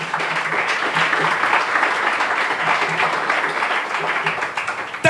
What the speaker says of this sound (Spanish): Dale un aplauso más grande a Dios